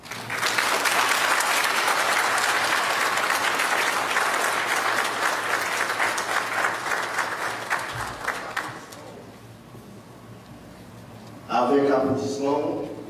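A crowd at a Haitian Independence Day celebration applauds loudly and steadily for about eight seconds, then the clapping thins and fades, and a voice begins speaking near the end.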